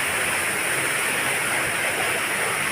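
Water rushes steadily into the caves of the Villa d'Este garden in Tivoli, a loud, unbroken roar that fills the space with no pauses or voices.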